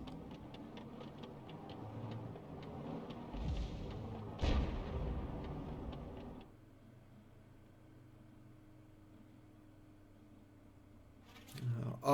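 A heavy boom from M53/M55 self-propelled artillery firing in a video game bursts out midway, with a second blast at the very end, over a steady ticking, rumbling game background.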